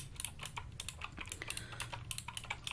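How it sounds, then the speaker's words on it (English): Rapid typing on a computer keyboard during an up-close ear cleaning medical exam, with soft irregular clicks in quick bursts, near and quiet, and no voices over them. "Typing up my findings in your medical history here."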